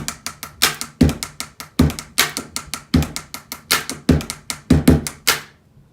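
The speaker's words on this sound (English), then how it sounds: "today's another pen tapping video" Quick pen taps on a desk form a rhythmic beat, mixing sharp clicks with duller thuds in a repeating pattern, close and crisp with no talking, then stopping abruptly.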